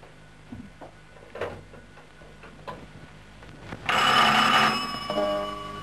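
A telephone rings in a Turkish comedy scene: soft ticking gives way to one loud, bright ring burst lasting about a second, followed by fading tones, with no talk over it.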